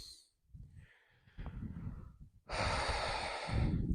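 Deep breathing during a military health exercise routine, slow rhythmic inhales and exhales, close and fairly loud, ending in a long forceful exhale, no talking.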